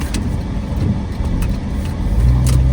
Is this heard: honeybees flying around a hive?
no